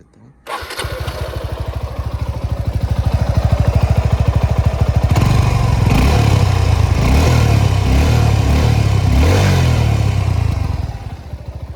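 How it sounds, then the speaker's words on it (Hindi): Suzuki V-Strom SX 250 motorcycle engine starting with a clutch-held start, settling into a steady loud idle, then several rising and falling revs of the exhaust, close and dominant with no talking. "ये रहा कुछ एग्जॉस्ट का साउंड।"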